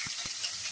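Curry leaves tempering in hot oil give a steady, close hiss of sizzling, broken by a couple of quick crackles near the start.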